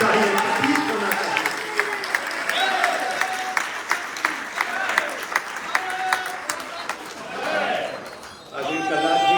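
An audience at a national seminar applauds loudly to welcome an honoured guest. The sustained clapping carries a speaker's amplified voice over it, and it eases off near the end as the talking continues.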